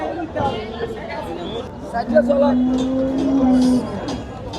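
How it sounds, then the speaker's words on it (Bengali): At a busy cattle market, a cow lets out one sustained, close low moo. Chatter and crowd babble from the market run underneath it. "এই গরুটা বেশি জ্বালাইতাছে"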